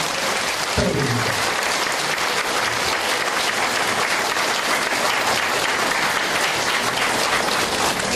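A political audience breaks into loud, continuous applause for a mayoral candidate, a dense and steady roar of clapping that opens with a brief low thump and holds evenly to the end.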